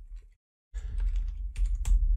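Computer keyboard typing while writing code in a VSCode editor: a short pause, then a dense, steady clatter of close keystrokes with no voices.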